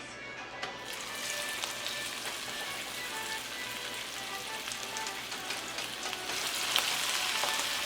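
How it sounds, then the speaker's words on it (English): Chicken fries in hot oil over medium-low heat, sizzling steadily with a continuous close crackle and hiss that swells slightly near the end. "I added some oil for frying."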